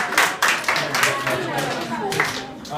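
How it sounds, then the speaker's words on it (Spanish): A group of students in a classroom claps for a classmate, with a few sharp individual claps standing out at first before a looser patter takes over, and voices are heard underneath. "Denle un aplauso a su compañero."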